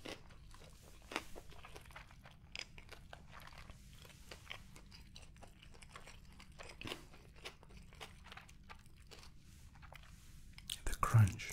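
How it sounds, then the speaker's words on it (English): Someone chews food with rice and wasabi, producing soft, close crunches and wet mouth sounds at an irregular pace, with faint whispering. "The crunch."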